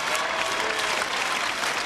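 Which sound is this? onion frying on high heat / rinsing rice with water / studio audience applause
studio audience applause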